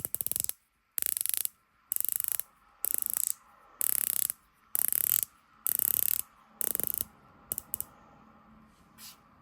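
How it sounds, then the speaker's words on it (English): Ratcheting clicks from a dive watch bezel with 120 positive detents, heard as nine or so short, crisp bursts of rapid clicking separated by brief pauses, close and alone. "The bezel is 120 clicks, very positive clicks."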